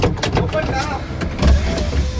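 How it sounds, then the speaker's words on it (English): A car's electric power window opens with a steady motor whir under nearby talk in the cabin. "I'm opening this window."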